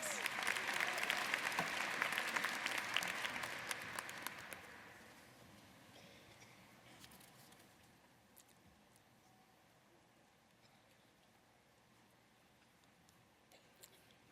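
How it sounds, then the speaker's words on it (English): Audience applause for PhD graduates at a business school graduation ceremony, a dense crowd clapping loudly for about four seconds, then thinning and fading to a low hall murmur with scattered claps. "Let's give them another round of applause."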